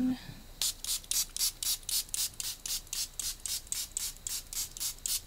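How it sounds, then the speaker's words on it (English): Adirondack ink is sprayed around a small stencil in about a dozen short, rhythmic hissing bursts, close and crisp, after a brief voice at the start. "Just kind of spray around it."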